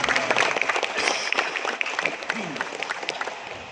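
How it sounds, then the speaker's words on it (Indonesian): Moderately faint applause for Pak Toyo at a school leadership handover ceremony, uneven clapping in a room that tapers slightly toward the end, with voices faintly underneath. "Tepuk tangan untuk Pak Toyo"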